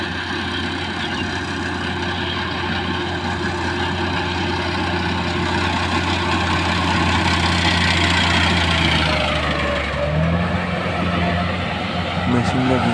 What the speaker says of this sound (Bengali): আপনার চাইলে মেশিন দিয়ে কিন্তু ধান কাটাতে পারেন।